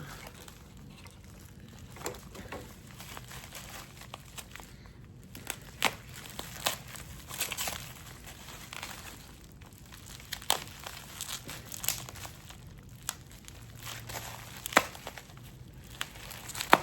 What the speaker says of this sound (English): All right, I guess we'll use a knife and just be careful with it.